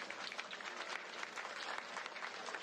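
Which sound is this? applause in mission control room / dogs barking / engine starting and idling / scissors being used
applause in mission control room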